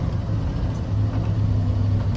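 A 1973 Ford F250 Highboy 4x4 pickup truck drives at a steady pace, its engine a constant low rumble inside the cab, with the AC running and no talking.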